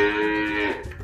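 A cow at a livestock market gives a single close, loud drawn-out moo that fades near the end.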